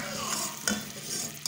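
A spoon keeps stirring a homemade wax mixture with citric acid heating on a stove at moderate flame. It makes a close, bubbling sizzle with two brief metallic scrapes against the pot.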